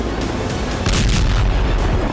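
Kinzhal missile explosions rumbling over Lviv, a loud, continuous low boom with overlapping blasts that swells partway through, heard from a distance.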